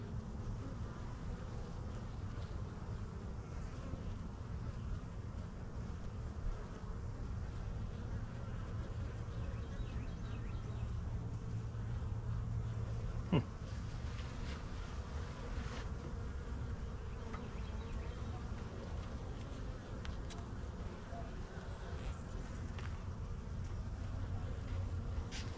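Honeybees swarm a new hive two weeks after setup, a dense constant drone of many wings close by, with a single sharp knock partway through.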